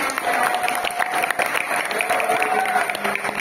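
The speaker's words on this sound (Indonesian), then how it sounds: "Tepuk tangan buat kita semuanya" Applause from a gathering of new and returning Islamic boarding-school students, a dense steady patter of many hands with some crowd noise mixed in, filling the whole stretch at fairly close range.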